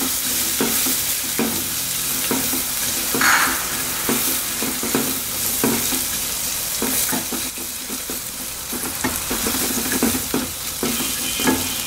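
Ginger garlic paste fries in ghee in a pan as the start of pav bhaji. A constant close sizzle carries repeated scraping and stirring strokes at an uneven rhythm for about twelve seconds, with no talking.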